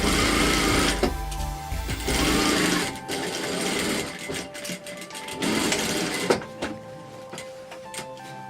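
A sewing machine stitches the hem of a fabric tote bag, running loud and close in continuous stretches with brief slowdowns and mechanical ticking between bursts.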